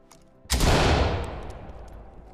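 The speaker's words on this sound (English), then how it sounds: "Flashbang going down the hallway." A flashbang grenade in the Ready or Not video game goes off with one sharp, loud blast down a hallway of an old psychiatric hospital, then a long rumbling decay and no speech.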